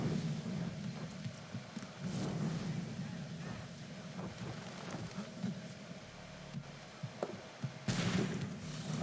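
Galloping horse in Assassin's Creed III, with steady low hoofbeats and wind-like rushing noise running throughout, close and continuous, plus a louder burst near the end.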